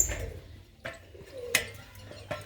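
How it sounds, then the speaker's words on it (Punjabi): Female pigeons kept in net enclosures for releasing at a Kartarpur loft give soft, low coos in short spaced bursts, with faint clicks and a quiet background, no speech. "ਇਹ ਜੀ ਬਾਜੀ ਛੱਡਣ ਵਾਲੀਆਂ ਕਬੂਤਰੀਆਂ"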